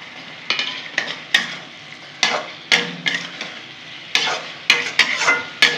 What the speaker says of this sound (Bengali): এখন আলুগুলো দিয়ে একটু কষে নেবো।